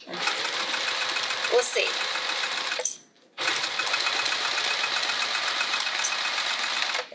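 Sewing machine running steadily while stitching vinyl for a bag, a dense close-up whirring hum that cuts out briefly partway through, then resumes; a voice speaks briefly.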